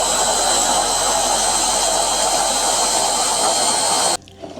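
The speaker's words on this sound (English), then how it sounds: "I'm going to cut this tomato in a 2 pieces to grind in the grinder." Electric kitchen grinder whirring loudly and steadily as it grinds tomato pieces with chili and coriander, a continuous high motor whine that cuts off abruptly near the end.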